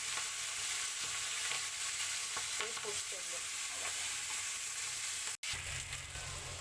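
Diced potatoes fry in hot oil with a steady close sizzle and occasional stirring scrapes, briefly cut off near the end.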